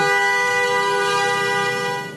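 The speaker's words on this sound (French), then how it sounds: "concert de klaxon et je me fais remonter les bretelles" Car horns blare in a Paris street, a loud, sustained chorus of tones that hold steady for about two seconds before easing off slightly, with no voices over them.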